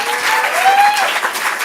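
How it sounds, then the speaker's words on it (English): An audience claps steadily at a stand-up comedy showcase, dense continuous applause throughout, with faint voices and a whistle-like tone mixed in. "have a round of applause for everyone"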